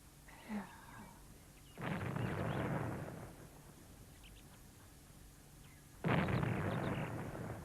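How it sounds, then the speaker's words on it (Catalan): Cannon shots fire along a river, two muffled booms a few seconds apart, distant and fairly faint, each trailing off in a rumble. "Estan disparant, són canonades."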